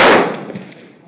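A single AR-15 rifle shot at the Ben Avery Shooting Range: a loud, sharp report that rings out and fades over about a second.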